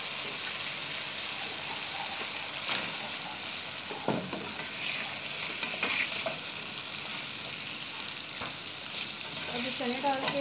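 Chickpeas sautéed and stirred in a spice masala for chicken chana, with a steady low sizzle, scraping spoon strokes and occasional clacks of the utensil against the pan, close and continuous.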